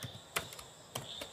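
Keystrokes on a computer keyboard while entering code, a few sharp isolated clicks spaced apart, quiet and close with no talking.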